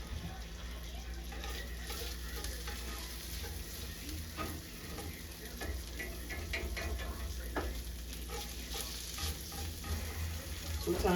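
Chopped beef seasoned with salt and pepper sizzles quietly in a cast iron pan, a soft constant frying hiss broken by light scrapes and ticks as the meat is stirred around.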